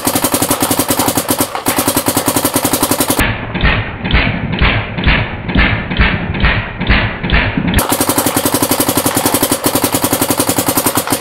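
Dye CZR and DSR paintball markers fire outdoors in rapid, even streams of close, loud pops, with a burst of slightly different, heavier thumping shots in the middle.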